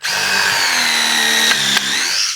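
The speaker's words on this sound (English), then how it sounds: "bust out a countersink bit, give yourself a little countersink and make sure you go in straight at first" A drill spins a countersink bit into wood on a skate ramp build, giving a loud, steady high-pitched whine for a couple of seconds with a brief dip near the end and no talking.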